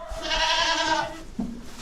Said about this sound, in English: She's one of our milking goats, and she is I think she's a Saanen Alpine mix